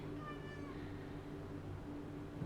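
A cat gives a brief, faint meow at the very start, then only quiet room noise follows.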